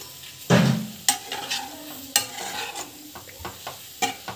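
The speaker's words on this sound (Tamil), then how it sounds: "ஸோ இது வந்து பார்த்தீங்கன்னா நல்லா வந்து வதக்கிட்டோம்" Okra sautéing in a pan, with a spoon stirring through it repeatedly: a steady close sizzle broken by several sharp scrapes and clanks against the pan, alone without talk.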